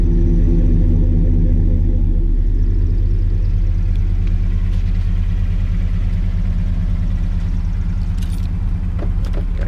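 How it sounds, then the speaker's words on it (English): A deep, steady exhaust rumble from an idling 2015 Chevrolet Silverado Rocky Ridge 4x4 pickup truck, close and continuous, with faint clicks and rattles near the end. "You can hear the exhaust."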